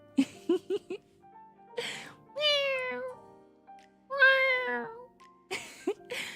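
Several cat meows come in a row, close and clear, two long drawn-out ones between short chirpy sounds and breaths.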